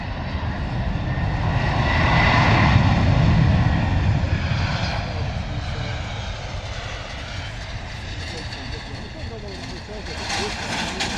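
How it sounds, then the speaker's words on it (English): A DHL Airbus A300 freighter arrives at London Luton Airport, its jet engine roar swelling loud and then fading steadily into a broad rushing drone, with someone talking over the noise. "DHL A300 freighter, eh?"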